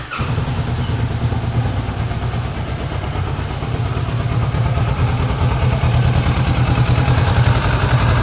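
A Kawasaki Vulcan S motorcycle engine idles steadily and close by after its crank angle sensor was replaced, a smooth, even low rumble with light mechanical clatter that holds unbroken from start to finish.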